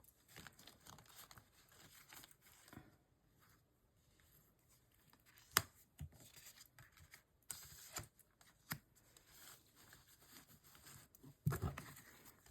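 Tarot cards handled and shuffled, soft close papery slides, flicks and taps in irregular bursts with quiet gaps, faint overall.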